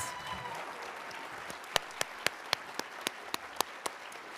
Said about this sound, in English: one final round of applause for all of our nominees and our award recipients